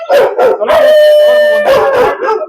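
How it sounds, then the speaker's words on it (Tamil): Several dogs at a countryside dog hostel in Salem bark and howl together loudly and close by, a dense overlapping chorus with a long sustained howl in the middle. "பார்த்த சந்தோஷத்துல குலைக்குதுங்க எல்லாமே"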